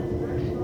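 A train pulling into West Croydon station gives off a low, steady rumble with an even drone, heard briefly and moderately loud.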